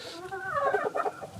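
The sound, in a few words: gamefowl stag clucking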